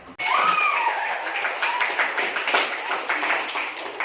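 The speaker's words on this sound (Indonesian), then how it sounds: "Oke, beri aplaus dulu untuk temannya." A classroom full of students applauds a classmate's presentation, a dense burst of clapping that starts abruptly and carries on unevenly for several seconds.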